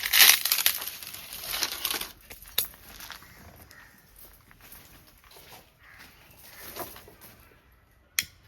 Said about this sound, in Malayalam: ഓലക്കൊടി നല്ലോണം വെയിൽ കൊണ്ടിട്ടേ ഉണങ്ങിയതായിട്ടുണ്ട്. വേഗം കത്തുന്നുണ്ട്.